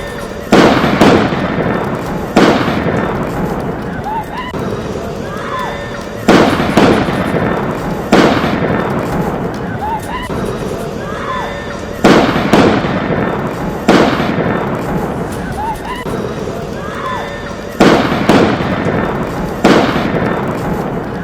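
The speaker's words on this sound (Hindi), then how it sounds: "पर्यटक घूम रहे थे, तभी वहां पर फायरिंग होने लगी" Gunfire during a terrorist attack at a tourist spot in Pahalgam rings out as sharp, loud repeated bangs in clusters every couple of seconds, each echoing away, with voices faintly underneath.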